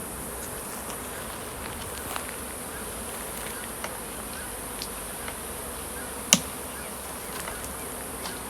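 A swarm of honey bees leaving a beehive on a hot afternoon fills the air with a constant dense buzzing hum, steady and even, with a few faint clicks and one sharp knock partway through.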